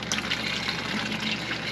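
Steady rushing water pours continuously at about 6 gallons per minute through a Camco water filter, a broad hiss of flow through a hose or fitting with faint bubbling, fairly close and unbroken.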